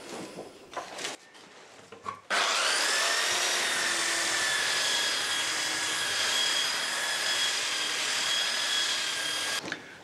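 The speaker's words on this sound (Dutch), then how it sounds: "Dus als ik als laatste nog even de schuurmachine eroverheen haal." Electric sander running over wood on a thick door sill during carpentry work: a few faint knocks first, then the motor starts with a sudden loud, steady whine that holds evenly for about seven seconds before cutting off.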